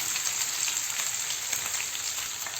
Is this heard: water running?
no